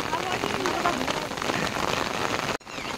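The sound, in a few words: rain falling on a farm field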